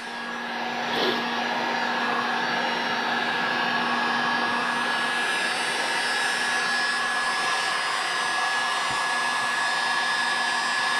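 A heat gun set on high blows a loud, steady whooshing roar while heating tape on a Lexan R/C car body, holding constant throughout with a faint tonal whine inside the airflow.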